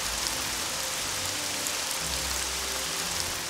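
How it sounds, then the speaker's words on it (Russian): Rain falls in the video game CHKN, a steady broadband hiss of drops on surfaces with a low rumble rising partway through, and no voices. "Такой дождь приятный. Обожаю такие дожди."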